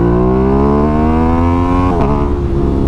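An Aprilia RS660 motorcycle engine revs loud and close, its rising harmonic exhaust note climbing steadily before a sharp downshift blip near the end, with no talk over it.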